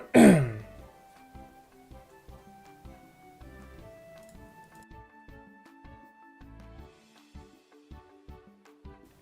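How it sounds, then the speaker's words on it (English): A streamer clears their throat loudly once right at the start, close to the microphone, followed by quieter clicks and faint tonal background sounds. "muting myself when I go to cough, because it's loud"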